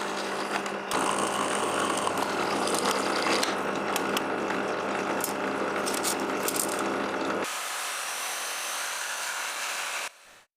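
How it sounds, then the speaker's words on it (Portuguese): Holes are drilled through the ends of aluminium pieces, a loud continuous whining grind with a rattling edge running for about seven seconds, then a quieter hum before it cuts off. "furei cada ponta dos pedaços de alumínio para os pontos de pivô"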